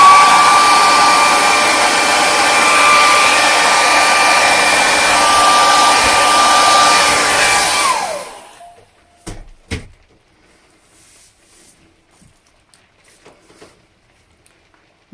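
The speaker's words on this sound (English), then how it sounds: "hairdryer coming on call." A hair dryer blows over acrylic paint with a loud, steady whoosh for about eight seconds, then cuts off, leaving near silence broken by a few soft knocks.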